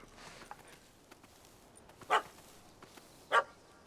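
Dog in The Witcher 3 video game gives two short, moderately loud barks about a second apart over a quiet ambient background.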